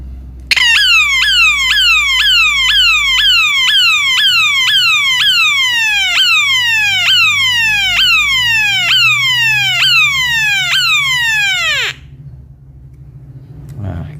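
A homemade electronic tone circuit on a PCB sweeps out a loud, repeating descending warble, each chirp falling in pitch at a quickened pace set by a trim pot, before it cuts off near the end.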